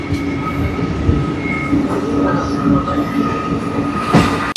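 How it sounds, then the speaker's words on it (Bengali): A Santragachi to Digha local train rumbles steadily along the rails, with a constant close roar of wheels and carriage, faint squeals and a sharp clatter near the end. "এখন এসে আমাদের ট্রেন পৌঁছালো মৌরিগ্রাম স্টেশনে"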